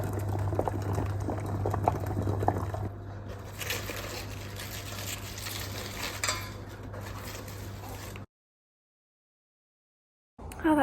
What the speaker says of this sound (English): It's so warm in here now because the potatoes are cooking